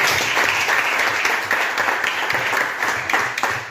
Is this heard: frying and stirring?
no